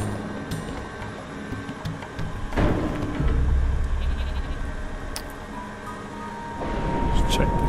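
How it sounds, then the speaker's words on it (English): Cartoonish sheep bleat in the video game Flockers amid busy game sound effects and background music, with a voice talking over it. "Sheep are moving along."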